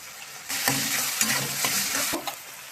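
Grated ginger and garlic hit a hot pan for a soybean dopeaza, a short quiet moment followed by a lively close sizzle with scraping stirring strokes.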